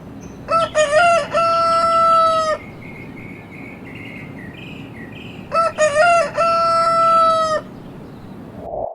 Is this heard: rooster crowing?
yes